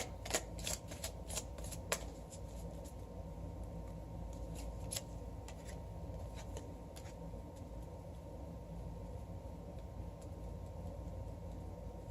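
Tarot cards being shuffled during a full moon reading, a rapid burst of crisp riffling and flicking in the first few seconds, then soft scattered card slides over a steady low room hum.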